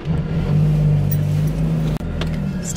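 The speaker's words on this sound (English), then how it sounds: "Let's take you guys for a little ride in my car." Interior of a newly bought car driving around the block, with a steady close engine hum and low road rumble and a brief dip near the end.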